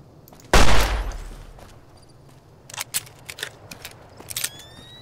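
Fallout New Vegas handgun: a single sharp, loud shot with a short ringing tail, followed by a series of lighter mechanical clicks and clacks.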